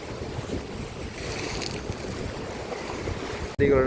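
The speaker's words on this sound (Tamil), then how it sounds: "கடல் எப்படி இலை அடிக்குது" Sea waves crash against the shore at Mathagal, with steady broadband surf wash and wind noise throughout, loud and continuous, cut briefly near the end by a short burst of louder noise.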